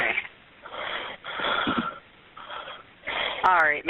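A man breathes heavily and exhales raggedly, wheezing into the phone on a 911 call recording, with a narrow telephone sound. A dispatcher's voice speaks between the breaths.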